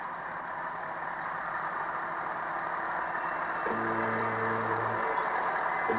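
A 1950 Ferguson 20 TVO tractor rumbles at a festival parade with a steady engine drone, while a louder humming tone joins partway through and holds for about a second before fading back under the engine noise.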